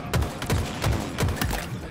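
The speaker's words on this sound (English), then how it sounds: "I'm getting shot from behind." Gunfire in a Halo Infinite multiplayer match, a steady volley of about six punchy shots spaced roughly a quarter second apart. Each one is loud and close with a low thump.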